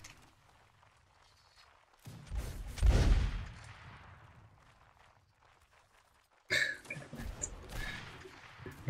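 Black-powder musket fire during a Napoleonic Wars battle in Mount & Blade: Warband. A loud volley is followed by a quieter stretch, then a second sharp burst of crackling shots.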